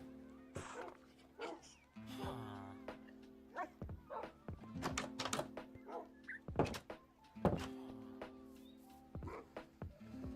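Dogs yip, bark and whimper in short, irregular bursts close by, over a steady low background hum.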